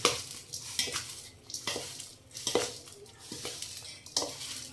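Pickle vegetables being stirred with spice masala and oil in a metal pot: repeated scraping and clinking strokes at a steady rhythm, close and fairly loud, with no voices.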